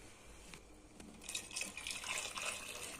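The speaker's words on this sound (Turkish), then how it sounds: "Biraz da normal su döküyorum kızım." Tap water pours into a pot in a home kitchen, a steady splashing gush that builds slightly over a few seconds, fairly faint and close.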